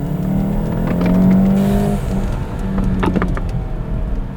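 A VW MK7 GTI fitted with an S&B cold air intake revs up, the engine tone rising and swelling before easing back, then climbing again, heard close and fairly loud with no talking.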